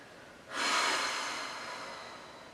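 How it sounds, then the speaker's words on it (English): A single long, deep exhale during a Pilates cool-down, starting abruptly and then slowly trailing off, close and soft with a breathy hiss, with no talking over it. "let's just take a couple of long, deep breaths here"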